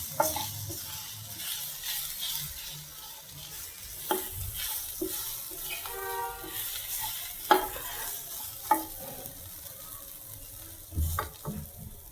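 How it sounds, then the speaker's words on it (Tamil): Boiled potato is mixed into bonda filling in a pan, with repeated irregular scrapes and knocks of a spoon against the pan over a low background sizzle. "நல்லா மிக்ஸ் ஆகிற மாதிரி நம்ம கலந்துடலாம்"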